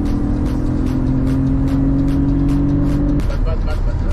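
A Toyota Mark X drives with a loud, close engine hum and road noise that hold steady, then shift as it changes speed, while people talk over it.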